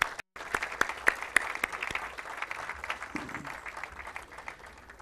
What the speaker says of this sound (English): I again ask for your applause for all of these donors